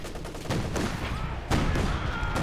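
A Flak Panzer anti-aircraft vehicle in Company of Heroes fires rapid bursts, loud, dense rattling gunfire with a sharp fresh volley midway, amid continuous battle noise.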